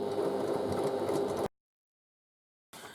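A sewing machine running a straight stitch on a tote bag, a steady mechanical whir that cuts off abruptly into silence, then starts up again.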